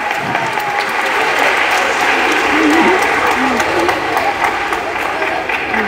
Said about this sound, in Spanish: Un aplauso para Yandil